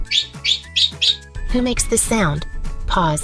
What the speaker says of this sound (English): Yes, it's a bird.